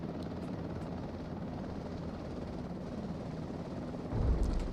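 An Mi-2 helicopter in the flight simulator MSFS 2024, heard as a steady, muffled rotor and turbine drone with a low rumble that swells slightly near the end; no speech.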